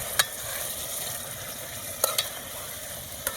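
Food fries with a steady, even hiss in a pan, while three brief clicks of a utensil against the pan break it at uneven intervals, close up and with no speech.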